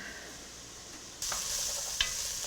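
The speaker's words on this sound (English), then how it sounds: "We'll cook these until the onions get a little bit translucent." Onions and vegetables for venison osso buco cook in a pan with a soft, steady sizzle. The sizzle briefly grows louder partway through, and a light stirring scrape sounds near the end.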